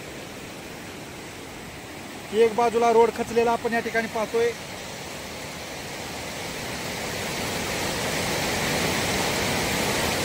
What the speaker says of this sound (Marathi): पुलावरून पाणी वाहत आहे